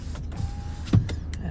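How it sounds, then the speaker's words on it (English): Electric windows on a 2019 Ford Ranger 2.2 TDCi Limited pickup whir as they operate, a brief motor hum with a faint mechanical clunk, close and quiet. "All the electric windows work as you would expect."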